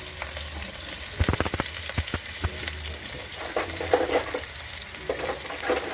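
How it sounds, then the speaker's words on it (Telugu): Onions, green chillies and bay leaf frying in hot oil in a wide pot, a steady crackling sizzle with a few sharp spatula knocks and stirring scrapes up close. "ఆనియన్ని అట్లా బాగా వేగాలి"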